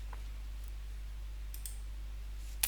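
A single sharp computer mouse click lands near the end, preceded by a few faint ticks over a steady low electrical hum, while connecting to a Windows Server 2025 remote desktop.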